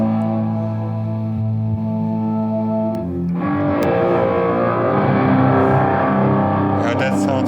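Electric guitar run through a MOD Devices pedalboard patch with a shimmer effect and an added pitch interval, ringing with sustained layered harmonics and a dense, washing reverb tail that thickens midway, loud and continuous.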